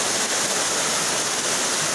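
Strong floodwater rushes in a steady, loud, broadband roar with no break, flooding past a house and chicken coop.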